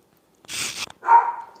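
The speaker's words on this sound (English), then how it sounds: "Sorry, our dog probably heard a squirrel or something, per usual." A pet dog barking indoors in a home kitchen, two sharp nearby barks, the first harsh and bright, the second lower and drawn out, with silence around them.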